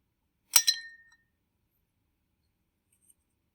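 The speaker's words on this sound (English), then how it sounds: "Watch what happens when I drop this limestone sample in a jar of vinegar." A single sharp clink of a limestone sample hitting a glass jar of vinegar, ringing briefly before silence, followed by one tiny faint tick.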